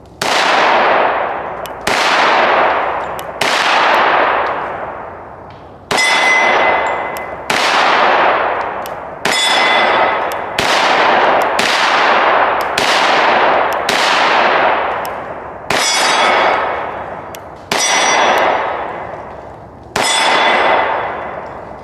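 FN 510 10mm pistol fired at steel targets outdoors: about a dozen loud, evenly paced shots, each with a sharp metallic ring from the struck steel that decays over roughly a second and a half, with no talking.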